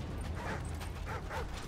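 A dog in the Modern Warfare 2 Special Ops video game gives a few faint yips and barks mixed into a busy game soundscape.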